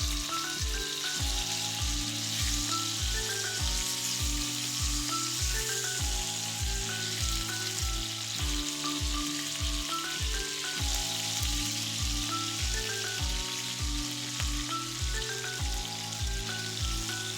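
Hilsa fish pieces fry in a pan, giving a continuous close sizzle under a loud repeating melodic music track that dominates throughout.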